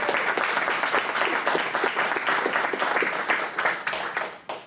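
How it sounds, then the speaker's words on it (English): An audience applauds at a Boston civic recognition ceremony. Many hands clap in a dense, sustained burst that holds steady and then begins to thin out at the end. "you can all clap"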